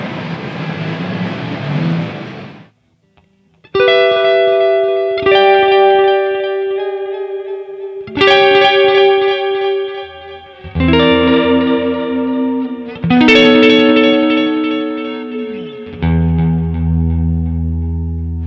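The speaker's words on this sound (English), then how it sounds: "I can get chorusing sounds just by modulating the delay time" A guitar playing a sequence of sustained notes and chords through a shimmering, warbling chorus effect from a Gamechanger Audio Auto Series modulated delay pedal, loud and alone with no talking.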